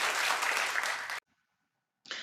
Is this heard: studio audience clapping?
yes